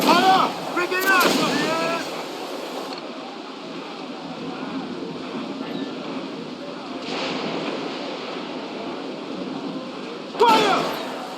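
Cannon and gunfire volleys ring out in the Assassin's Creed 4 Freedom Cry video game, with booming blasts near the start and end over a steady rumbling battle bed while voices shout orders.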